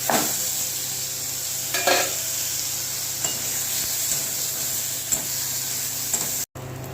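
Garlic and onion go into hot oil already seasoned with nigella seeds after fish has been fried, producing a continuous close sizzle with a few sharper bursts as the pan is stirred.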